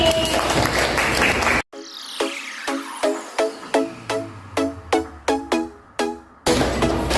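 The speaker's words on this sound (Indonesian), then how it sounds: "Beri tepuk tangan untuk pelajaran hari ini" A second-grade primary class in Palembang claps together after a maths lesson. A short burst of mixed sound gives way to a pause, then about a dozen crisp, evenly spaced unison claps ring out before the room noise returns.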